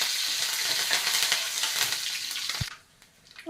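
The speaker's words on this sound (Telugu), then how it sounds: "పోపులు వేగిన తర్వాత ఒక రెండు రెమ్మలు కరివేపాకు వేసుకున్నాం" Sprigs of curry leaves crackle and sizzle loudly in hot tempering oil for an Andhra brinjal curry. The dense frying sound holds steady, then cuts off abruptly, leaving near quiet.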